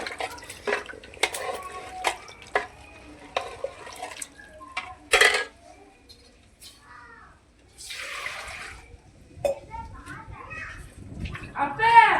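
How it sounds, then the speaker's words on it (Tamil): Water pours and splashes into a pot of country chicken curry in several short bursts, separated by quieter pauses with faint clinks and movement. "தண்ணி ஊற்றிக்கலாம்"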